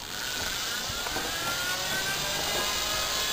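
An electric fan driven by a sparking universal motor runs at a steady, loud, continuous whir and hiss, with no talking.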